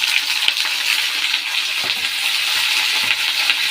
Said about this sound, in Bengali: এই কুমড়োটাকে ভাজা করব